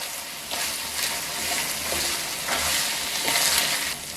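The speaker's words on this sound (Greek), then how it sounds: "Μόλις πιει τα υγρά του, το καταλαβαίνετε, αρχίζει και τηγανίζεται." Minced meat for a Thracian meat pie fries in a pan once its juices have cooked off, giving a steady, dense sizzle with occasional scraping stirs, close and continuous.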